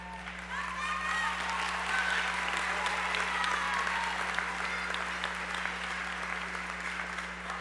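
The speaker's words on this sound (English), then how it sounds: "They deserve all of our gratitude and utmost applause." At a high school commencement, the audience gives parents a sustained round of applause, dense and even clapping that carries on throughout with light crowd noise.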